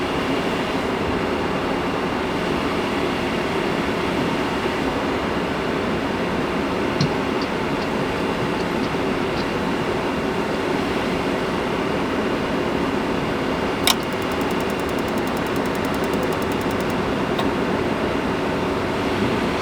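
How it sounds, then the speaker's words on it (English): A furnace inducer fan and blower motor run with a steady, continuous whir and hum, loud and unbroken throughout, with a sharp click partway in and no talking. "that blower kicked on in there"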